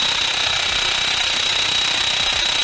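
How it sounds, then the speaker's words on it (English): A big Milwaukee impact wrench hammers loudly and continuously on a rounding cam gear bolt of a blown Subaru STI engine, a steady rattling burr close by with no talk. "we're gonna use the big impact on it and see if it helps"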